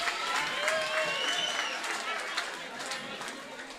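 Audience applause at a women's forum anniversary celebration, a steady wash of clapping lasting the whole stretch with voices mixed in beneath it.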